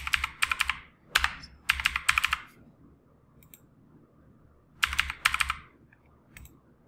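Password being typed on a computer keyboard during Windows 11 setup: several short bursts of quick, close, crisp key clicks separated by pauses, with no talking.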